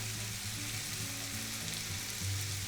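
Shallots and vegetables sauteing with mushrooms in a pan for a vegetarian mushroom stroganoff, a steady dense sizzle throughout, close and continuous with no voices.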